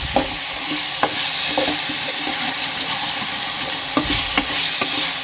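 Chopped bell pepper frying in a pan with other pasta ingredients, a steady close sizzle and hiss with occasional scraping stirs, no voices.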